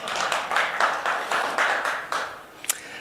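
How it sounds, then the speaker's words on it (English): A small audience at a business talk by a CEO gives a brief round of clapping, with soft, uneven claps that swell and fade together for a few seconds before trailing off. "Clap for me, dude."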